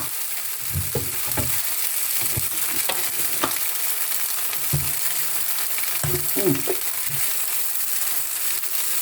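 Eggs frying with rice noodles and pork in a hot pan, a steady sizzle under repeated scraping and stirring clacks from a spatula.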